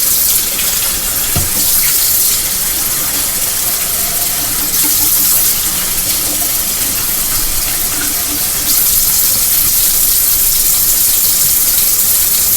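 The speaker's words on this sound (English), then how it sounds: "So now I add water" Tap water runs steadily into a kitchen sink or pot while cooking, a continuous hissing gush holding at the same loud level throughout, with no talk over it.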